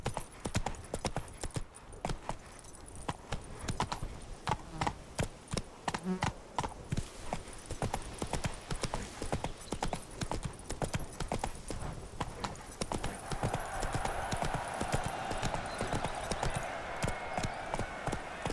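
Roach the horse from The Witcher 3 galloping, a fast continuous clatter of hooves close by for the whole stretch, with a rider's voice briefly speaking over it.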